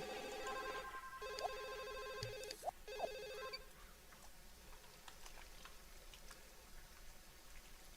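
Phone ringing in The Sims 1 video game, a bright electronic trill that repeats in short bursts over the first few seconds and then stops, with faint game background noise afterward.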